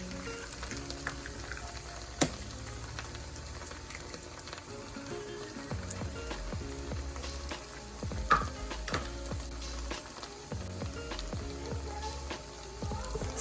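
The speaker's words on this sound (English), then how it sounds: "Crack both eggs on pan." Two eggs cracked into a pan fry with a soft, continuous crackling sizzle, faint and close, with occasional small pops and clinks and no one talking.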